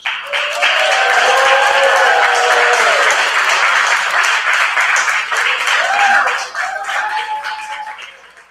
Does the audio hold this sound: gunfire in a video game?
no